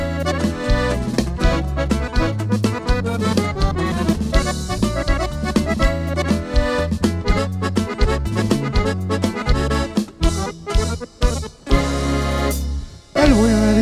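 Unreleased 2020 corrido plays loud and steady, with dense instrumentation and rhythmic bass throughout and a brief dip in level near the end.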